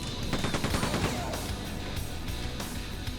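Rapid gunfire in the Quake II 2023 remaster, fighting Strogg light guards and a shotgun guard in the mines, with a dense burst of sharp repeated shots followed by several spaced louder blasts and crashing impacts.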